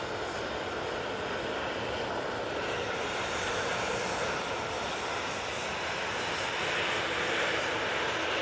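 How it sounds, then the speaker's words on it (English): A Ryanair jet taking off from Manchester Airport bound for Rome, a broad roaring engine rush that stays steady and swells slightly toward the end, distant but full, with no speech. "And off to Rome we go with this Ryanair."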